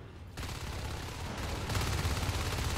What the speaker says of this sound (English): Nice shots over in ore processing